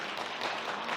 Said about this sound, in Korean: 우리 박수로 이야기하겠습니다